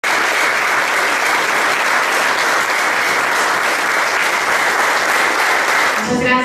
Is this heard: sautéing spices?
no